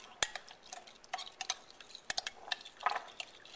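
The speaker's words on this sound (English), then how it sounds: "Just stir it around." A spoon clinks lightly against a bowl while a packet of yeast and a teaspoon of sugar are stirred into liquid, giving quiet, quick, irregular ticks and taps with no talking.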